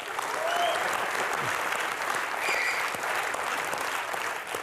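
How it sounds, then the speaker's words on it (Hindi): Sustained studio audience applause on a Hindi TV comedy show set, steady and dense throughout, with a few faint voices and whistles scattered on top. "पर यार तालियां बनती हैं।"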